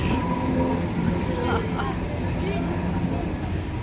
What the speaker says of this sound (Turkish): tramvayımız geçiyor.